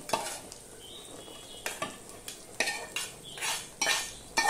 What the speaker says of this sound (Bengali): এবারে আমি যে ভেজে রাখা এই সবজিটা আমি এর মধ্যে দিয়ে দিচ্ছি।